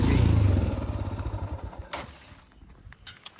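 A Royal Enfield Himalayan 411 motorcycle engine rumbles loudly and close at first, then fades away into quieter background noise with a few sharp clicks near the end.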